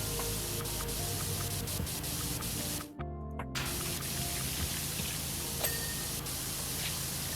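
Pressure washer in Powerwash Simulator blasting water at a hand statue, a constant loud hissing spray with a brief cutoff partway through before resuming steadily.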